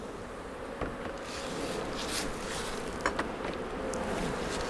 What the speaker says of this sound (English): So you can see the bees kind of starting to climb up the walls there.